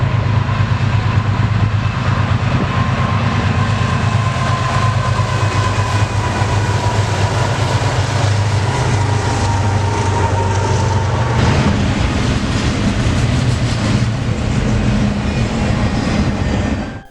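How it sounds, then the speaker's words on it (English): An intermodal freight train on Union Pacific's southern transcon rolls by at close range, a loud, unbroken roar of wheels and rumbling cars lasting the whole stretch with no voices. "we'd hear the crossing go off, and see an intermodal approaching"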